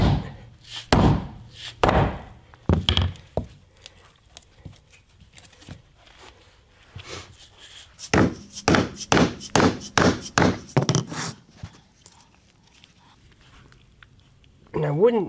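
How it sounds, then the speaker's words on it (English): A non-metal hammer striking a tight knot in a tow strap, with loud, close, dull thuds at first and then a fast run of about ten rhythmic blows, while someone talks. "I like using this type of a hammer also because it's not metal"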